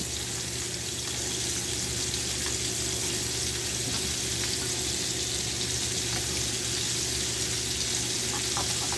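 Pork loin fries in hot grease, a dense, continuous sizzle and crackle held at steady loudness, close and alone with no talk.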